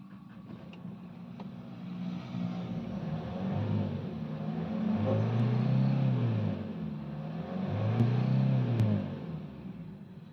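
A used car's engine runs with a low, steady idle rumble, swelling into two distinct revs midway through before settling back, with faint mechanical creaks in the background.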